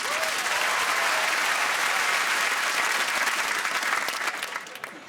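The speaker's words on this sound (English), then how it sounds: "Round of applause for Wesley." Television studio audience applauding on a comedy panel show, a dense, loud wash of clapping that holds steady before tapering off near the end.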